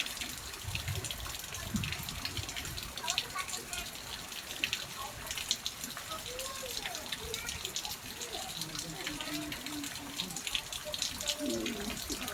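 Natural spring water flows steadily at an outdoor spring with a tank, a continuous gushing, splashing wash close by, with faint voices and other noise in the background.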